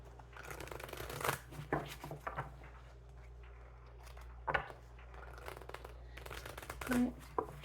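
Tarot cards being shuffled in quick riffling bursts, a few separate shuffles with short pauses between, close by over a low steady background hum.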